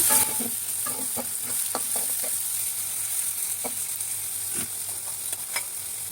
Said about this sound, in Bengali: সরষের তেল দিয়ে দিচ্ছি আমার তেল গরম হয়ে গেছে পেঁয়াজ কুচি দিয়ে দিচ্ছি